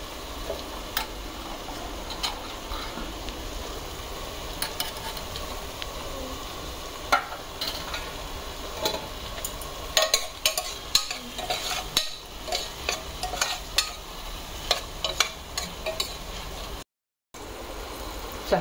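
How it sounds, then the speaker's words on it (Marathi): Tomato and onion sauté in a pan for khichdi, a steady sizzle and crackle running throughout with scraping stir strokes and light ticks, close and continuous, no voices. "हे आता टोमॅटो आणि कांदा हा सगळा छान परतला गेलेला आहे"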